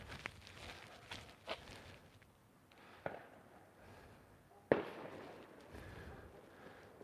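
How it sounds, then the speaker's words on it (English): Fireworks going off outdoors at a distance, a few scattered sharp pops and bangs spread over several seconds against a quiet background. "We got some fireworks happening."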